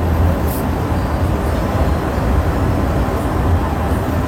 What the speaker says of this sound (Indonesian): kita tiba di stasiun Tegal, tujuan akhir kereta ini